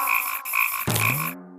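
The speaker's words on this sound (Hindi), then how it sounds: "भागो, मेंढक वापस आ रहा है।" A cartoon frog croaks loudly in a few rhythmic, buzzy bursts, followed by a sudden lower sliding tone that cuts off abruptly. No speech is heard.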